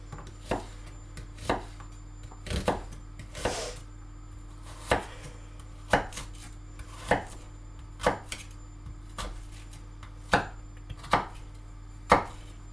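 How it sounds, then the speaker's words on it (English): A knife chops onions on a cutting board in a kitchen, about a dozen sharp, evenly spaced thuds ringing out close and clear, with nothing else heard. "is someone chopping onions in here"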